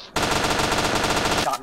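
A sustained burst of rapid automatic gunfire from a video game rattles loudly and evenly for over a second, then cuts off abruptly.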